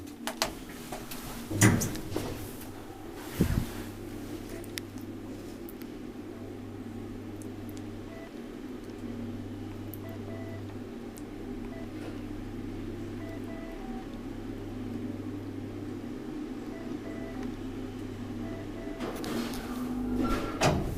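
An old Kone traction elevator in a residential building in Pohjois-Tapiola, Espoo, runs with a steady low motor hum, a couple of clunks near the start as it gets going, and further knocks and rattles toward the end of the ride.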